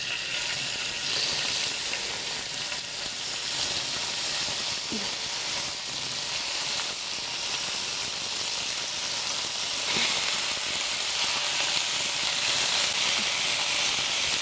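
Beef sizzling in olive oil in a hot pan for a beef and broccoli stir fry, a steady broadband frying hiss running throughout with a few faint clicks and a brief low talking voice.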